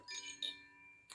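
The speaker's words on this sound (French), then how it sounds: "Donc celui-là c'est le carillon de feu." Soft metallic chime tones from a Koshi fire element wind chime ring out in a few light strikes, then hold a sustained shimmering tone that fades slowly, with another strike near the end.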